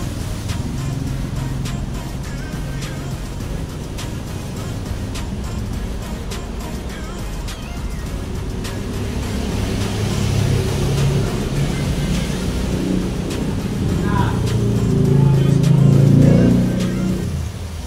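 A Honda Click scooter engine runs at a steady close idle, then revs up and swells louder toward the end before easing off slightly, with no voices over the mechanical drone.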